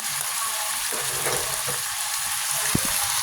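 Wild boar with red curry paste and oyster sauce sizzles and crackles steadily in a hot pan as it is stir-fried, with a few scraping stirs and a sharp clatter near the end.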